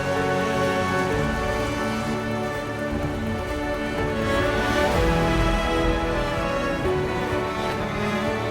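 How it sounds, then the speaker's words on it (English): Heavy rain pours steadily on a build site for a hand-built hut, a loud, dense, unbroken hiss that holds the same level throughout with no voices. "It's still raining pretty bad."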